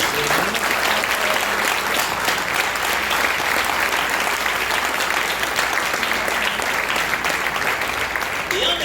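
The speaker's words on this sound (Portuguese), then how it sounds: "Então você pode aplaudir o nome do Senhor Jesus." A church congregation applauds in the name of the Lord Jesus, producing a dense, sustained wash of clapping from a large crowd that stays loud and even from start to finish.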